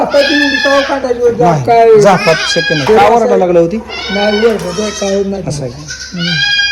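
Several goats bleat loudly, wavering repeated cries close by, while a person speaks among them.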